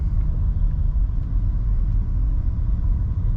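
A BMW M3 G80 xDrive four-door sedan drives with a steady, low engine rumble and road noise heard from inside, loud and even throughout with no voices.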